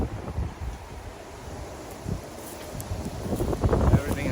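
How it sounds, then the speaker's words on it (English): Strong wind blows outdoors around a chicken yard, rumbling and buffeting the microphone in uneven gusts that swell louder toward the end, with faint rustling mixed in. "there's a lot of wind going on today"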